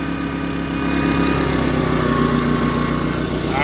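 A PG2200BiS propane-fueled generator idles down into economy mode, giving a steady, close engine drone with a low rhythmic pulse and no talk.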